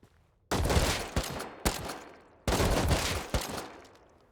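Loud, close bursts of gunfire from the survival video game Rust, several heavy sustained volleys with sharp individual shots between them, heard alone without talk.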